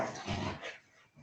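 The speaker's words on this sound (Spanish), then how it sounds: "Están los perros míos, se les ocurrió jugar ahora." Several dogs playing at home, a burst of yips, whimpers and barks that is loudest in the first half-second and then fades into softer scuffling and faint whines, with no talking.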